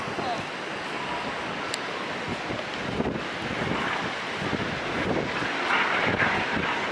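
A continuous broadband roar of a helicopter flying overhead in Melbourne, mixed with gusty wind buffeting the microphone, steady throughout.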